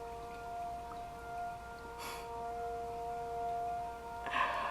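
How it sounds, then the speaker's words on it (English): A distant siren sounds as a steady, sustained tone, faint and unbroken for the whole stretch, beneath a soft background hiss with a couple of short bursts of noise. "We're just gonna let that siren come in."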